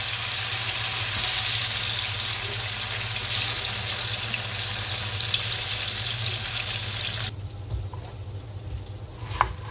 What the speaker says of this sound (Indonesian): sudah saya siapkan wajannya dan minyaknya sudah panas saya masukkan tahunya yang saya iris-iris tadi